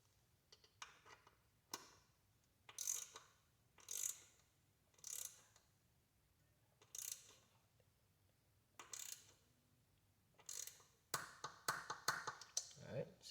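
Torque wrench tightening a bolt on a 2022 Yamaha R7 rear spool, a string of sharp ratcheting clicks in short separate bursts, close by and fairly quiet, ending in a quicker run of clicks.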